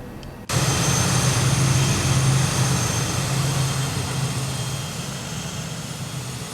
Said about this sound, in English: you get behind those engines, you can really hear them